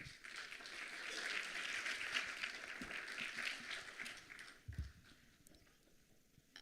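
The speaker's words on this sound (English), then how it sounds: "Merci de les applaudir bien fort." Audience applause at an international conference on AI and the future of work, fairly faint and distant, swelling then thinning out with a few scattered claps and knocks.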